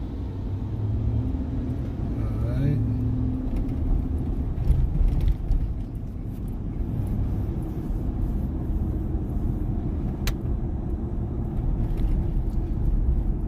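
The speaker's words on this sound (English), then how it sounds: "The big double metro bus." A double articulated metro bus rumbles through Los Angeles street traffic on Vermont Avenue, a steady low engine drone with passing vehicles around it and a brief spoken word.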